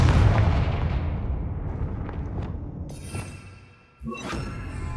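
Confringo fire-blast spell exploding in the video game Hogwarts Legacy: a loud, booming burst that rolls off into a rumbling decay, followed by a sharper crackling impact near the end.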